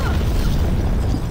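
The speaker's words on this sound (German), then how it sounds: "Aber die Explosion trifft mich." An explosion in the video game American McGee's Alice, a dense, loud low rumbling boom sustained over a second and a half with no speech.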